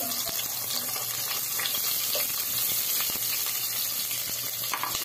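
Garlic browning and then onion sautéing in a home-cooking pan in a rural kitchen, a steady close hiss of sizzling oil running throughout with light clinks and taps, no talk.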